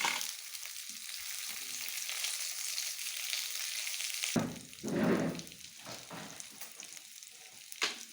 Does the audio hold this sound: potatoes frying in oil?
yes